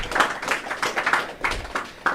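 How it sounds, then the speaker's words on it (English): An audience at a church testimony gathering gives a round of applause, a dense patter of many hands clapping with rhythmic swells, moderately loud and close, with no talk over it. "Round of applause"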